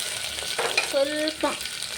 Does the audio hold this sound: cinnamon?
yes